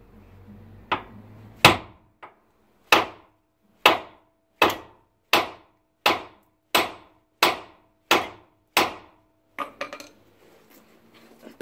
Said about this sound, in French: il va falloir taper un peu au marteau pour la décoller